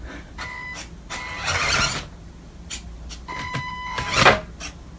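A small 1:16 Xiaomi Suzuki Jimny remote-control toy car whirs its electric motor in short bursts, braking sharply each time it stops, with a higher-pitched whine on acceleration.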